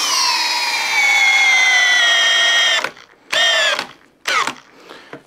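A Makita drill drives an 8-inch bit in a loud, high whine for about three seconds, then stutters through two short bursts of spinning with abrupt stops between them.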